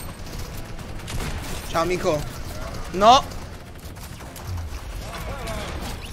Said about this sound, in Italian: spari ovunque e musica